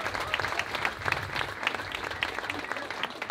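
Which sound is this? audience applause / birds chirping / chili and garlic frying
audience applause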